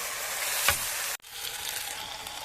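Chicken coated in masala with onions sizzles steadily in a pan for a gravy chicken dish, a close hissing fry with a brief scrape of stirring before a short cut and the sizzle resuming.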